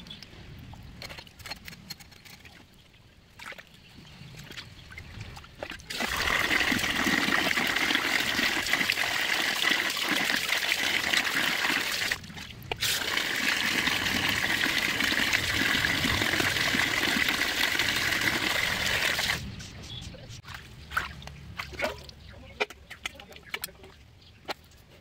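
Tap water running hard in a kitchen as fish is washed, a dense rushing stream that starts after quiet clinks and dribbles, breaks briefly in the middle, then stops, leaving small splashes and handling sounds.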